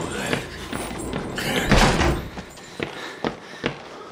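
A door closes in Outlast, first as a long sliding rumble and then a heavy thud. A few sharper knocks and clunks follow, fairly close and loud, with no speech.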